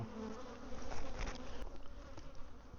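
Honey bees buzzing thickly around a beehive, one of several hives, a loud close swarm drone that holds steady without any voices.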